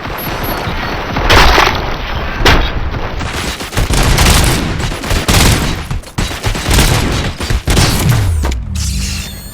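Loud, sustained gunfire from the Robocop: Rogue City video game, with dense bursts of shots and heavy booms filling the whole stretch, several sharp blasts standing out, and no talking.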